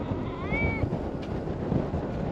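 A cat meows once, a short rising-and-falling cry close by, over steady outdoor wind and background noise on a boat at the end of a season.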